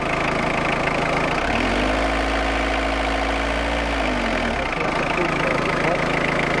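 A car engine idles steadily after a damper pulley replacement, a low even hum with a deeper rumble swelling briefly in the middle, heard close and continuous while voices talk nearby.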